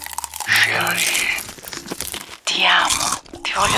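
Crunchy popcorn being eaten, loud close crunching and chewing in bursts, with voices talking between and over the bites.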